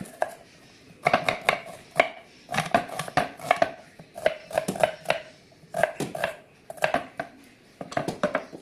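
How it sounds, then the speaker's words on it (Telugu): A knife chops onions and tomatoes on a cutting board for an okra fry, making close, rhythmic bursts of sharp knocks in quick runs separated by brief pauses. "టమాటాలు కూడా ఇలా ముక్కలుగా కోసేస్తారు"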